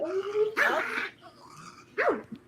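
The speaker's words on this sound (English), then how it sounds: "Oh, don't let that dog eat you." A dog barks and growls close by in a few sharp, gruff outbursts with rough snarling between them, heard alone without talk.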